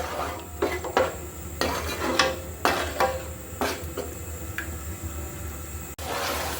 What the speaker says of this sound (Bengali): দই সহ কিন্তু মশলাটাকে ভালো করে আবার কষিয়ে নিতে হবে।